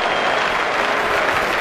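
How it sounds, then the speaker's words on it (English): Steady crowd applause at a 1982 Pakistan versus West Indies cricket match, greeting a square drive, a dense even wash of clapping sustained throughout at moderate distance. "Beautiful square drive and applause there for Madusa."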